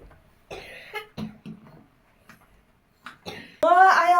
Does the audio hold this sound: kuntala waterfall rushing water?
no